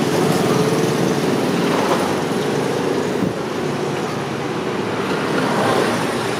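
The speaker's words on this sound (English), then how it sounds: "There's constant motorbikes and tuk-tuks in a very narrow street" Steady, dense street traffic with engines droning close by, a continuous roar of motorbikes and tuk-tuks passing in a very narrow street in the old town of Udaipur, India.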